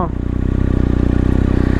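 A motorcycle boxer engine runs right up close, throbbing in a fast, even pulse that shakes the bike, with a brief rattle at the start and no voices.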